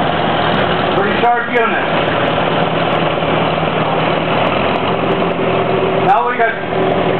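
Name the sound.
1944 Farmall tractor engine running in parade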